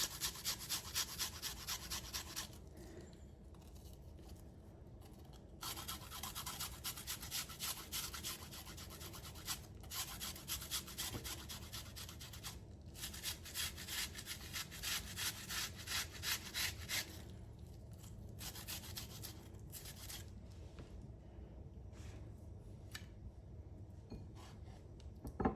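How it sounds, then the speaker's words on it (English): A small onion is rubbed against a grater in quick, rhythmic, close-up scraping strokes, coming in bursts separated by short pauses. "I just had a little bitty onion in my onion stash. So let's just grate up some of that."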